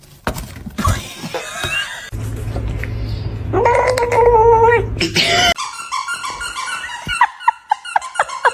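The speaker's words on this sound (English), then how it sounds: "His meow is so cute." A cat gives a few short, close meows amid rustling and handling noise, with brief bursts of sound and a moment of louder commotion.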